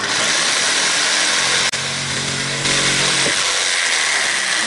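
An electric jigsaw with a bent blade cuts into a wooden board, buzzing loudly and continuously. It cuts out abruptly partway through and then resumes a harsh, steady whine, with no voices.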